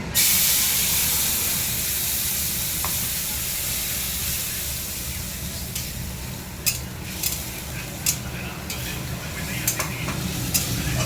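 A loud burst of sizzling as spices are added to frying fish and potatoes settles into a steady hiss, with sharp clinks of a spoon stirring the pan toward the end.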